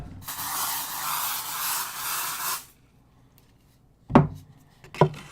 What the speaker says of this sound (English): I'm going to spray some of this.